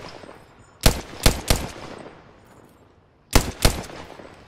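Gunfire from the battle royale game Apex Legends comes as two quick bursts, each of about three sharp, loud shots, separated by a short pause, with no talking over them.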